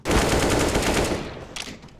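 Rapid automatic gunfire in a video game, a loud continuous burst of shots lasting nearly two seconds before trailing off, with no talking over it.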